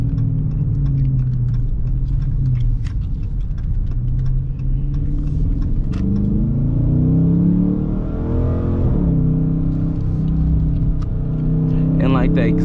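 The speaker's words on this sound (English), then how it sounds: "The exhaust sounds so deep and firm." A brand-new 2020 Dodge Charger RT idles and revs with a deep, low exhaust rumble, pitch rising and falling through a couple of throttle blips, close and loud with people talking over it.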